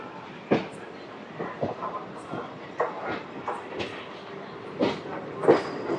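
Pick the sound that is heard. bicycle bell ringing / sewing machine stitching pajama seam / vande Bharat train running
vande Bharat train running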